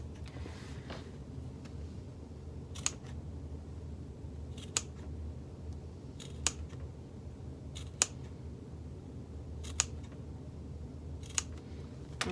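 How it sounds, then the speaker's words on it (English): Scissors clip a fabric seam allowance on a sewn bag panel, about seven sharp, quiet snips spaced every second or two over a low steady room hum. "So I'm very carefully clipping this seam allowance"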